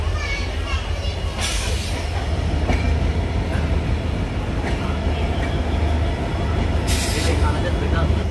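A moving passenger train travelling from Jagiroad toward Kolkata near Guwahati, heard from on board as a loud, continuous rumble and rattle with occasional bursts of hiss and faint voices.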